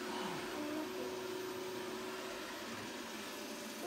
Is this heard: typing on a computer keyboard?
no